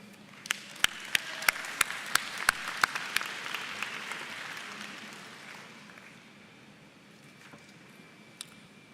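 A high school graduation audience applauds parents and guardians at the 2023 ceremony: a few sharp, close individual claps ring out, then a broader wash of crowd clapping that swells and gradually fades.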